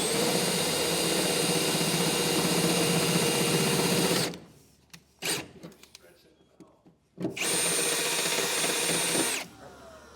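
A drill steps up through bits to 9/16 inch while enlarging holes in the frame of a 2017 Toyota Tundra. It roars loudly and steadily in two long bursts, separated by a quiet gap with brief restarts.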